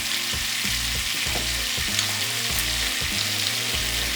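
Oxtails sear in a hot pan with a steady, dense sizzle and crackle, close and continuous, with faint rhythmic stirring or pan movement underneath and no talking.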